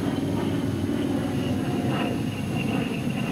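A P-47 fighter plane from 1943 glides in to land with the throttle pulled back, its engine giving a steady low drone and rumble with a faint whistle above, close and continuous throughout.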